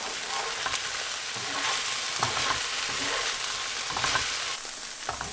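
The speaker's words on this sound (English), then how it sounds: "We're going to let this fry until the sliminess is completely gone and the okra is completely cooked" Okra sizzles and crackles steadily in a hot pan, a continuous bright hiss with occasional soft pops and stirring scrapes.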